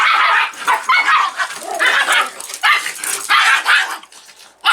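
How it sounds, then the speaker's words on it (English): A small pet dog barks and yaps rapidly and excitedly at close range, a near-continuous run of high, sharp barks with brief pauses between bursts. "Are you hearing Mama bark and so you're barking back?"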